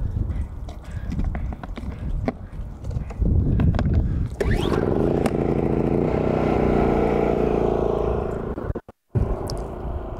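A Champion suitcase inverter generator runs at idle with a steady mechanical drone and hum, preceded by clattering handling noises, then settles into an even running tone with a brief cutout near the end.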